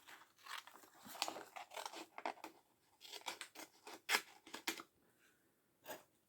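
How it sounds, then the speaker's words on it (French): Scissors cutting paper by hand for a handmade Christmas advent card: a quick series of close, crisp snips in uneven bursts with brief pauses, quiet and alone without talk. "donc je coupe à la main, c'est un peu risqué"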